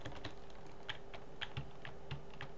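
Keys on a computer keyboard clack in an uneven run of sharp, close taps with short pauses between bursts, fairly quiet, over a low steady hum, with no one talking.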